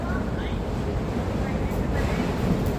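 Sea waves and steady wind on Victoria Harbour near North Point, Hong Kong, a continuous broad rushing wash heard up close from out on the water, with loud wind buffeting throughout and no clear voices.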